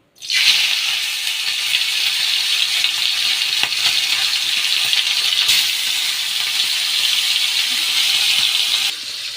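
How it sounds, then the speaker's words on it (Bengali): Fish hits hot mustard oil and bursts into a loud, close, steady sizzle that starts abruptly, holds evenly, then eases slightly at the end. "তেল গরম হয়ে গেছে এবার মাছগুলো দিয়ে দিই"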